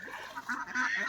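Young farm ducks, now grown, give a few faint, nasal honking quacks in quick succession.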